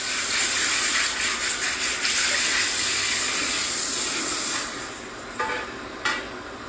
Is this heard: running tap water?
yes